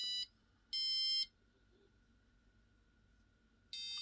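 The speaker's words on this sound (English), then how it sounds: "So it's playing a beep and then waiting for about 500 milliseconds. And then playing a slightly higher tone beep." Short electronic beeps from a passive buzzer on an Arduino sound alone, then a pause of about half a second, then another slightly higher beep, with quiet background between them.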